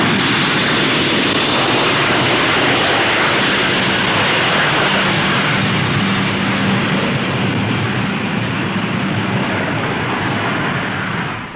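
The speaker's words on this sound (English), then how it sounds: "After a slow fly past, its four Bristol Siddeley Olympus jets hurl the huge machine into the sky." Avro Vulcan B.2 delta-wing bomber climbing away on four Bristol Siddeley Olympus jets at the 1958/59 Farnborough Air Show, a loud, steady, broadband jet roar filling the whole stretch without letting up.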